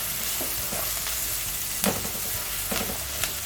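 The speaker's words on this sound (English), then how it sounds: "So now that I've finished frying the onion, I'm going to be adding the carrot to it." Chopped onion and carrot sizzle steadily in a hot pan, a constant close frying hiss broken by a few sharp clicks of stirring.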